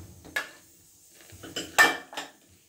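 A pressure cooker lid is opened after cooking chicken gravy, giving a few sharp metallic clinks and clanks with quiet gaps between them.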